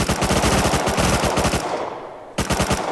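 Close, loud automatic gunfire in the video game Rust fires in a rapid, steady rattle, pauses briefly, then resumes, with no voices present.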